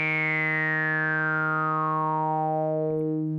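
A buzzy sawtooth tone from a Casio CZ-101 synthesizer with a resonant filter sweep gliding downward, sustained and steady for several seconds, with a brief click near the end.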